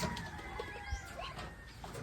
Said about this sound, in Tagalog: Yan po yung kalapati ni Burukoto at Burkita